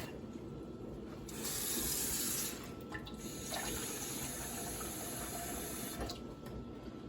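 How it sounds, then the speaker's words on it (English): Water runs steadily into a pan with a continuous splashing hiss, close by, growing slightly fuller near the middle and carrying on without any talk. "then I'll go for 1 more cup of water"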